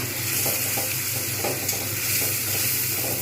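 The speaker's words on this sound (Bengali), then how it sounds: "এটা একটু ভালোভাবে কষতে থাকবো" Bengali bhetki fish curry masala sizzling and frying in a pan while being stirred, a steady close hiss with soft scraping strokes throughout.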